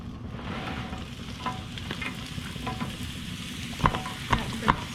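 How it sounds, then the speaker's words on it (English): Sliced potatoes sizzle steadily in olive oil on a hot Pit Boss griddle, a continuous close frying hiss with a few sharp metal spatula taps near the end. "we're gonna throw that on the griddle on some olive oil"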